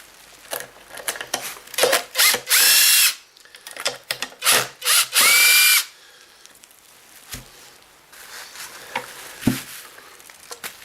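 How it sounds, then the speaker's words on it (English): A power screwdriver unscrews Phillips screws on a Kirby vacuum, with several short whirring bursts and two longer sustained runs, interspersed with clicks and handling noise up close. "So we'll just undo this Phillips screw."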